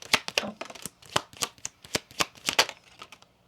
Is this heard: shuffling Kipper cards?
yes